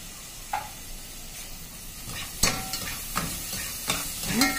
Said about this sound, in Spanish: Vamos a freír bien el arroz.